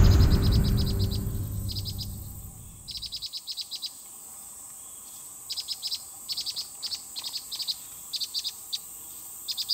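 Chicks of a crow-tit nest and a cuckoo chick give rapid, high, thin chirps in short repeated bursts, fairly close and clear, after a few seconds of low rumbling noise at the start.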